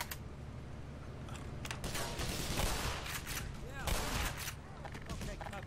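Mounted .50 cal machine gun firing in the Black Mesa video game: loud, rapid bursts of heavy automatic fire in a few clustered volleys, with mechanical clatter and someone talking over the shooting.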